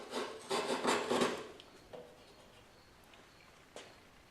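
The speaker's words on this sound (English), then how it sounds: "follow your wood grain and just pare it away. And you work from both directions." Hand chisel paring a hardwood cutting board along the grain: a few close, raspy scraping strokes in a quick cluster, then quieter isolated scrapes and one sharp stroke near the end.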